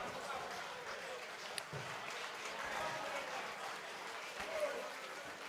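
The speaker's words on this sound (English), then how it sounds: "Here he is, round of applause, Martin Pratt." Audience applause in a crowded venue at a live boxing fight night at The Grand Brighton, a steady, fairly distant wash of clapping throughout, with crowd murmur and a few faint voices.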